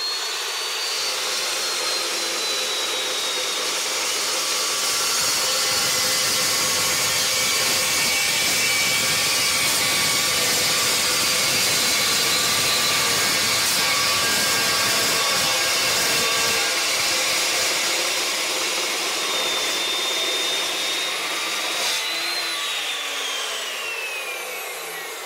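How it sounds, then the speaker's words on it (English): Evolution chop saw slicing through a steel driveshaft tube for a 2009 Ford F750, a loud continuous high-pitched abrasive whine and grind that holds steady for over twenty seconds, then winds down near the end. "I'm going to use the Evolution chop saw so we can get a good straight cut."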